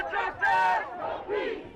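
Protesters in Kenosha, Wisconsin, march and rally demanding justice, giving a short burst of massed shouting and chanting voices, moderately distant and rising and falling in brief waves.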